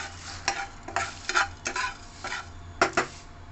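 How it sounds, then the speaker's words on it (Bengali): Whole spices (cardamom, dried red chillies, cumin, coriander seeds, cinnamon, bay leaf and cloves) dry-roasted in a wok, heard as a series of short, sharp scraping stirs and clinks at an irregular rhythm, close and clear with no talk. "কড়াই বসিয়ে আমি নিয়েছি 2টো এলাচ, 2টো শুকনো লঙ্কা, 1 চামচ জিরে, 1 চামচ ধনে, 2টো ডালচিনি, 1টা তেজপাতা, 2টো লবঙ্গ। ভেজে নেবো মশলাটা"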